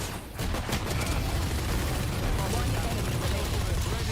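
Rapid gunfire from a Valorant match played at a watch party, a dense crackling burst of shots that starts after a brief pause and continues for about four seconds, loud and close, with people's voices mixed in.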